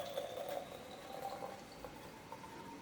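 Homemade kombucha poured into bottles during a second ferment, a quiet steady trickle of liquid filling glass, with the pitch rising slightly, faint and close without talking.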